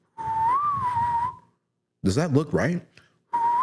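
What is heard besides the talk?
person whistling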